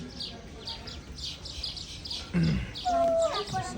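Soft bird chirps and a clear whistled call, fairly distant, with faint voices and background noise in between.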